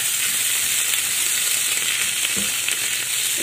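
Shrimp hitting hot oil in a pan, giving a loud, steady, close-up sizzle that runs unbroken throughout with no talking.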